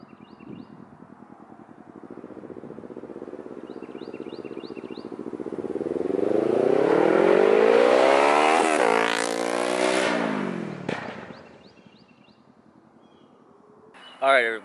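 Kawasaki Z650 motorcycle with a loud new aftermarket exhaust revs and sweeps past, engine note climbing in pitch as it approaches, peaking, then dropping away before a sharp blip near the end.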